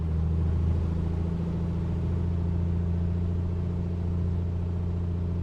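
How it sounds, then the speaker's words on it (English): A Piper PA-24-250 piston aircraft engine in a simulated run-up at 1800 RPM, holding a steady, loud, close drone with a strong low hum and a slight rise near the start, with no voices. "Listen to that engine."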